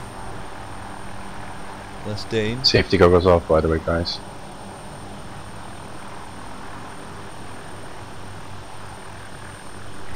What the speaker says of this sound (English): Incoming chopper.